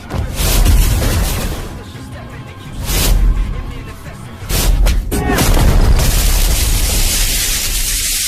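Gojo's Red technique detonating in an anime fight, loud booming blasts that swell and fade in waves, followed by a sustained roaring rumble.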